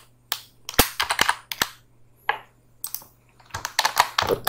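Keyboard keys clack in short, uneven bursts of sharp taps and pauses as shortcut keys are pressed while working in CorelDraw. The clicking is close and crisp, with no speech.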